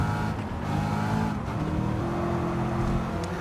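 Porsche race car in the Gran Turismo 7 racing game roaring past with a steady, loud engine drone and shifting harmonics, other cars audible alongside throughout.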